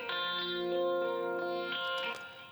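An electric guitar with chorus and reverb effects, a few clear sustained twinkly chords ringing out with shimmering modulation and a spacious echoing tail, alone without talk.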